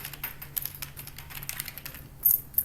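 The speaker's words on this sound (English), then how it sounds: "You want to click there and just begin to type" Fingers type on a computer keyboard, a quick irregular run of light clicking keystrokes, close and fairly quiet, with no talking.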